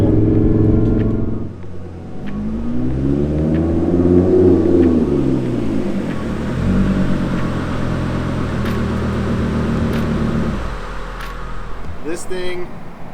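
A supercharged Audi R8 V10 accelerating hard, engine pitch sweeping up and down through gears in a loud, close rumble heard from inside the car, with a voice talking over parts of the run.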